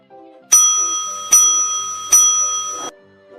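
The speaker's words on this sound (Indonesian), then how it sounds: "bel masuk pun berbunyi." A school bell rings three times for the start of class, each a bright metallic ding with a long ringing decay, loud and close against a quiet backdrop.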